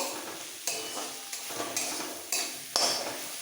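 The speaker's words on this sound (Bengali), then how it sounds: "হলুদ পাউডার এবার একসাথে ভাজবো" Turmeric powder fries together with poppy seed paste and a little salt, a quiet hiss broken by several sharp spatula scrapes and knocks against the pan as the mixture is stirred.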